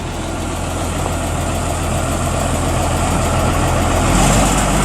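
A trolley tour bus engine idles in the Blue Mountains near Katoomba with a loud, steady low rumble and a continuous mechanical drone. It swells slightly near the end, and no voices are heard.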